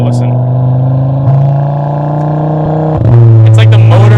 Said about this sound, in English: You hear like a blip in the exhaust note.